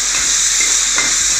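Cumin sizzles loudly in a hot pan with a steady, dense hiss, while a spoon stirs it in a few soft scraping strokes.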